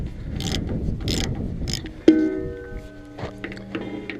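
A ratchet wrench clicks in rough bursts while breaking tight bolts loose during a belt job, then a sharp metallic clank rings out, followed by a few softer ratcheting clicks nearby.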